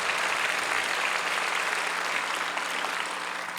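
A church congregation applauding during a Sunday worship sermon, a dense, even wash of many hands clapping at close range, continuous and loud throughout with no talk over it.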